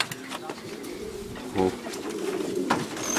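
Racing pigeons coo softly in a loft while someone talks nearby, with low burbling calls and the rustle of birds under his voice.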